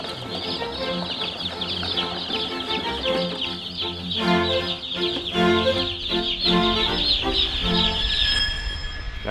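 A batch of about 100 meat chickens in a brooder shed, clucking and peeping constantly in a dense, close chorus with some rumbling machinery underneath.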